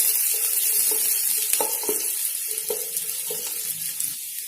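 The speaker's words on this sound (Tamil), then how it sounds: "அதை எண்ணெயில் போட்டு வதக்கிக்கலாம்" Chopped garlic sautés in sesame oil for a fish pickle, a bright steady sizzle with a few soft spoon knocks and scrapes against the pan, nobody speaking.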